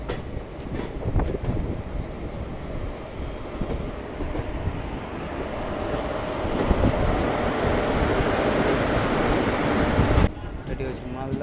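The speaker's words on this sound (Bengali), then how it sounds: "আমাদের ট্রেন এখন ফারাক্কা জংশন ঢুকে গেছে তার নির্ধারিত সময়ে" The 13141 Teesta Torsa Express rolls into Farakka Junction, a heavy steady rumble with wheel clatter and a high metallic squeal, heard from on board, the roar building and then easing near the end.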